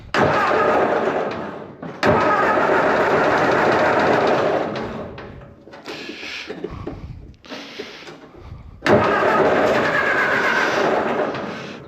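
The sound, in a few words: 1964 Ford 172 cubic inch engine starting up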